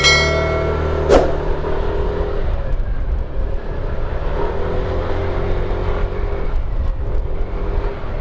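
A motorcycle fitted with a new regroove bell and 1000 rpm springs rides along a road in Pampanga, its engine a steady, fairly loud drone with wind rush and a brief sharp noise near the start.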